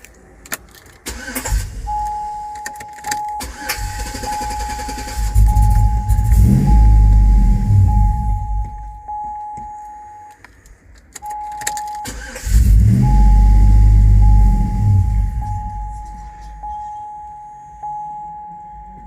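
2005 Chevrolet Tahoe 5.3L 4x4 with a stalling, crank-no-start fault and a new fuel pump cranks twice, each attempt rising into a loud, rough rumble that fades, with a steady electronic tone between tries.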